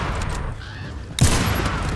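A sudden, heavy PGM Ultima Ratio bolt-action sniper rifle gunshot blast in the game Warface cuts in, followed by a loud, sustained roaring rumble that fills the rest of the moment.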